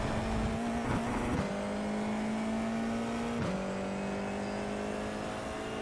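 Race car engine in a video game holding a steady high whine on a track, briefly dipping around gear shifts or a turn before settling back to a sustained drone, loud and continuous with no talk.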